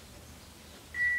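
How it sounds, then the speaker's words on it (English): At the Sherwood Oaks Vicarage, an answering machine sounds a single clear, steady electronic beep tone after a near-silent pause. "Please leave your message after the tone."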